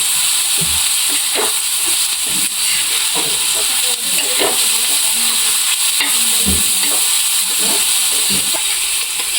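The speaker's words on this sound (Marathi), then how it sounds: "तेल टाकल्यानंतर कांदा व्यवस्थित त्याच्यात परत एकदा परतून घ्यायचा" Onion frying in oil in a pan, with a steady broadband sizzle and hiss running throughout, plus occasional stirring scrapes and clinks over the constant frying noise.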